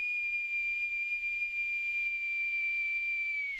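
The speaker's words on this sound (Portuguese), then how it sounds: "Este é o apito longo." One long, steady boat whistle blast holds a single clear tone for over three seconds, sounding alone with no talk.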